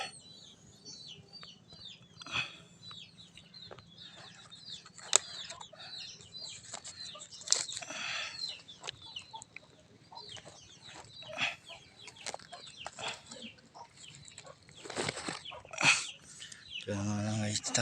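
Chickens cluck repeatedly in scattered bursts, with occasional wing flapping and a few sharper squawks nearby.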